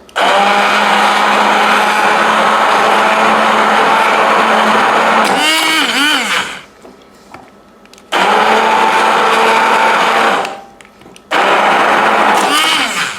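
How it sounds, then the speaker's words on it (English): Immersion blender switched to its higher setting, whirring loudly and steadily through corn kernels in a bowl, then cutting out and restarting, with a brief splattering moment when the blade lifts out. "So I'm going to go to the higher setting now."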